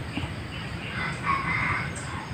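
A red junglefowl (labuyo) rooster crows outdoors in the distance, a single faint, drawn-out call rising over steady background noise.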